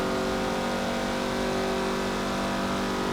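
A 2013 Mazda MX-5 Cup race car in Forza Motorsport 7 on the Nordschleife, its engine holding a steady, loud high-revving drone for the whole stretch with no gear changes or voices.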